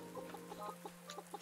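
Chickens clucking around scattered feed on a farm, a string of short, soft clucks in quick irregular succession, close by but quiet, over a steady low hum.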